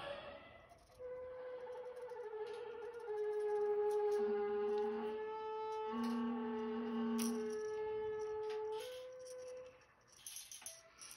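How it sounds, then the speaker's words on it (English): A noisy epoxy turner motor used while brushing on a clear coat drones with a steady, wavering moan that shifts pitch over several seconds, with faint brushing clicks toward the end. "Sound like a moaning whale."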